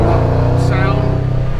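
Supercharged 2010 Chevrolet Camaro SS with headers, no catalytic converters and a Flowmaster exhaust: a loud, deep, steady rumble held for a moment, close by, with a voice briefly over it.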